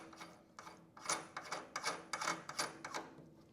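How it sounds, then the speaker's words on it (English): A lock ring on a Harley-Davidson CVO rear shock preload adjuster is spun down by hand, giving a close, quiet run of short metallic scraping and ratcheting bursts in an uneven rhythm. "now you're going to take your lock ring and spin it down until you get contact"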